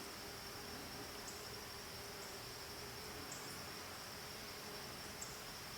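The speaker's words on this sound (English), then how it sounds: "we'll just hear crickets at all times of the day" Crickets chirp along a back bank in a dense, continuous high trill, an even outdoor chorus that stays steady and fairly close with no voices.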